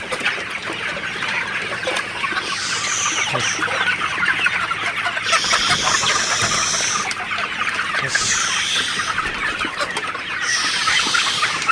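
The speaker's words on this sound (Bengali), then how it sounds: "আমার শেডে তো এখানে পনেরোশো মুরগি আছে সোনালি" About 1,500 Sonali chickens cluck and chatter continuously in a shed, with occasional louder calls rising above the busy flock.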